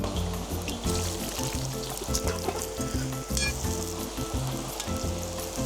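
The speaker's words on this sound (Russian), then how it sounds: "Лук мы жарим все время в движении." Onion frying in a full litre of oil in a kazan over a campfire beside a mountain stream in the taiga, a steady close sizzle with crackling and spatter running continuously, no voices.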